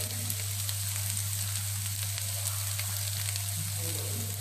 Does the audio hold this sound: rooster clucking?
no